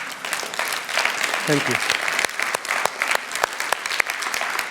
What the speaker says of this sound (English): let's give her a huge round of applause for that.